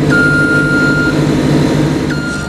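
A steady electronic warning alarm on a JCB telehandler work platform sounds over the loud, rumbling machine engine, cutting off briefly and then resuming, close by.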